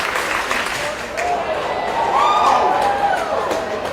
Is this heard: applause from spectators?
yes